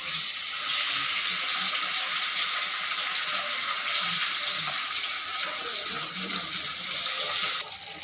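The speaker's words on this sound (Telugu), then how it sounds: "అదే ఆయిల్లో నేను ఇప్పుడు ఫిష్ని ఫ్రై చేస్తాను" Fish pieces for a Sunday fish dum biryani sizzle in moderately hot oil, a dense, even hiss that holds steady and then drops slightly near the end.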